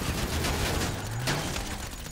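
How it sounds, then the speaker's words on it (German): Gunfire in the video game GTA Online, shots aimed at a car: a rapid burst of weapon fire under steady game background noise, fairly loud and continuous across the moment. "weil du mein Auto angeschossen hast"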